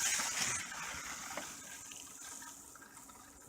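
Pink antifreeze runs from the outside shower of a 2005 Keystone Retreat RV being winterized, a steady hissing gush of liquid that is loudest at first and then eases slightly.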